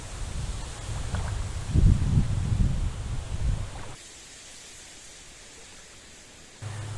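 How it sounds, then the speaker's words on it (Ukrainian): Wind gusts on a wild shore rumble against the microphone in low buffeting bursts, then drop to a quieter hiss before the rumble returns at the end. "Зараз ще вітер помінявся, почав трохи до нас задувати."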